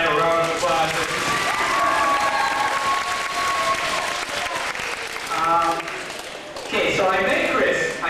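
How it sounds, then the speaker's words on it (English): A community crowd at a 2004 wish event in Wetaskiwin breaks into loud applause, clapping with scattered cheers and children's shouts, fading briefly before swelling again. "Let's give Kristopher's dad a round of applause."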